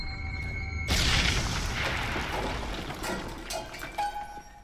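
A grenade goes off in a short film: a sudden loud boom bursts after a quiet moment, then a rushing roar decays over several seconds.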